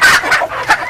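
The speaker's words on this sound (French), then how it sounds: "Là, je suis en train de nourrir mes poulets de chair." Broiler chickens being fed on a small farm cluck loudly and close by in a short, busy burst of overlapping calls, with no talk.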